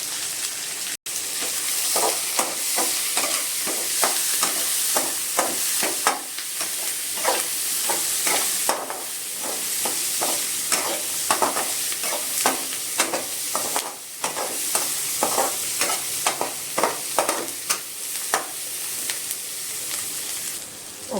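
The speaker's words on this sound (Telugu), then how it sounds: "ఆనియన్స్ వేగాయి." Sliced onions and green chillies fry in a pan with a loud, steady sizzle, broken by frequent rhythmic scraping strokes of the stirring spoon, close and continuous with no talking.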